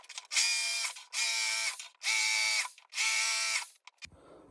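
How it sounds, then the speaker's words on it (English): A drill with a 1/8 inch bit cuts through car panel spot welds in four sustained, high-pitched whining bursts separated by short pauses, close and loud, ending with a faint clatter. "all the welds are drilled with an 1/8 inch drill bit"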